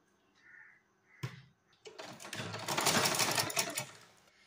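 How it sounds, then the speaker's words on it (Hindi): A sewing machine runs close by for a couple of seconds as it stitches through folded fabric, with a rapid whirring chatter that follows a few light handling clicks. "अब यहाँ नीचे से हमें सिलाई लगानी है"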